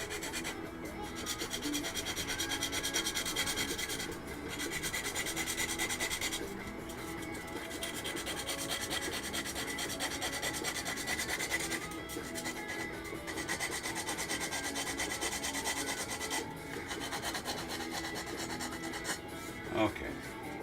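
Steady sanding on a 1/48 F-22 Raptor plastic scale model, a soft continuous rasping rub in repeated strokes, close and fairly quiet, with brief pauses between passes.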